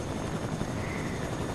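Helicopter flying in Fortnite, a continuous dense rotor and engine roar, loud and steady throughout with no speech.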